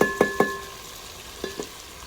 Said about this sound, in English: I'm trying to make sure that the meat doesn't stick to the bottom of the pan as I mix it.